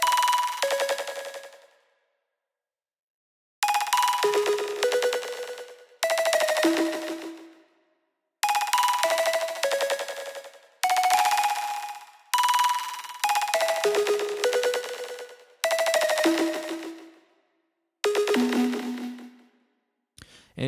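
A soloed, resampled textured synth lead patch made in Reason plays bright bell-like phrases in short bursts separated by gaps of silence, each note ringing and decaying.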